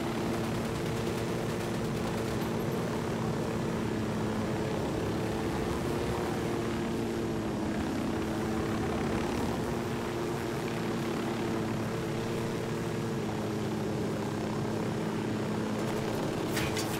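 Helicopter in Ghost Recon Wildlands, a steady loud rotor and engine drone that holds throughout with a constant low hum and no pauses.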